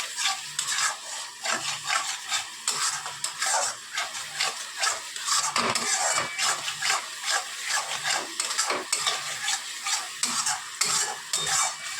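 Fish roe curry mixture, later to be joined by potatoes, stir-fried in oil in a pan, with a steady close sizzle and repeated scraping strokes of a spatula throughout, no talking.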